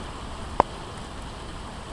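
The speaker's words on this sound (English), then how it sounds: "There's a lot of rain that you can see with the beams of light." Steady rain falls through an early morning thunderstorm as a soft constant hiss, broken once by a single sharp knock or drip; no voices.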